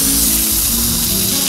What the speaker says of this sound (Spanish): el caldito para que se fríe aquí el chorizo, el brisket y las tripitas